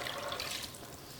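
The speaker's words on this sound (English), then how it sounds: "I'm gonna add 2 cups of the water" Water poured into tomato sauce in a cooking pot, a brief faint splashing pour of liquid, close by and alone.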